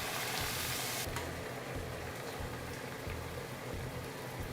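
Rice is stirred in a pan while hot chicken broth is added, giving a continuous soft sizzle with rhythmic scraping from steady stirring.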